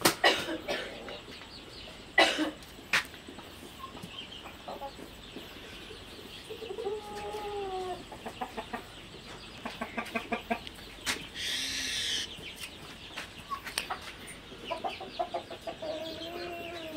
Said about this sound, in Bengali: আমার খামারের এই মোরগটা সবচেয়ে বড় মোরগ ব্রাহ্মার